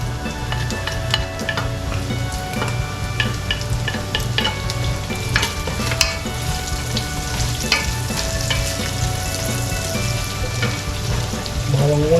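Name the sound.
garlic frying in a pan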